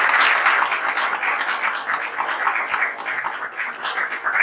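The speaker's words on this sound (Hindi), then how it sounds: "आप सब एक बार जोरदार तालियां।" Audience applause at a seminar on new media, a steady dense clapping from a large crowd that fills the room, fairly loud and continuous throughout with no voices over it.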